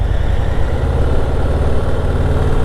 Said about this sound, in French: il y a une autre moto à côté de moi qui gronde comme ça